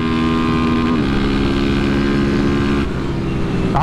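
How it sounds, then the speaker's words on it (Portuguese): A Honda CB300 motorcycle engine with an enlarged piston runs at sustained high revs, a loud, close, steady drone that shifts pitch as the throttle changes, with no talking. "A moto anda muito, mano."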